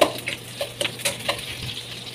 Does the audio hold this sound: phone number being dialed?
no